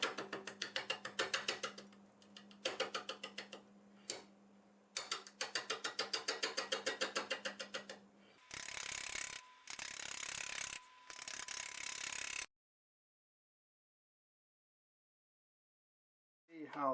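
A wood lathe spins a multi-axis bowl at about 500 RPM while a 5/8 bowl gouge nibbles at it. Rapid rhythmic ticking sits over a low motor hum in several runs, then louder broadband cutting bursts follow before silence.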